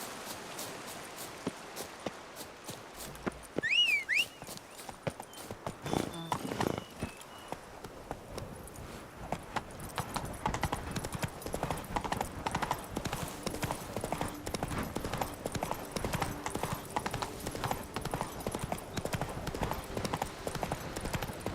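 Hooves of a horse in The Witcher 3 clatter in a steady galloping rhythm, close and fairly loud over game ambience, with a brief whinny early on and occasional voices chatting.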